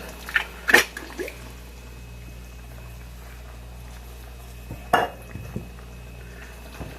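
Charro beans, onion and a can of hot Rotel tomatoes being stirred together in a pot at home, giving a couple of brief clinking, scraping bursts of spoon against pot separated by quiet stretches, with no talking.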